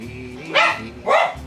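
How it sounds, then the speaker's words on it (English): A dog at home gives two loud, close barks about half a second apart, each a short harsh burst over a quiet household background. "There goes the dog."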